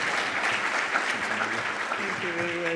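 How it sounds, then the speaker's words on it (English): Audience applause at a public-private business forum in Namibia as a speaker walks up to the stage, dense clapping sustained throughout, with a voice starting to speak over it near the end. "give the applause until the speaker gets to the stage"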